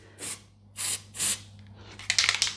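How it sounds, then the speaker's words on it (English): Short bursts of white lithium grease spray onto aluminum sliding window rollers, three distinct hissing puffs followed by a scattered rapid series of sprays and clicks, fairly close. "I'll spray on the white lithium grease"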